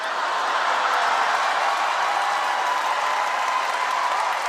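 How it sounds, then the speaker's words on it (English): A comedy club audience at a stand-up roast show breaks into steady, dense applause that holds at full strength for the whole stretch, loud and close, with no voices over it. "Why are we clapping?"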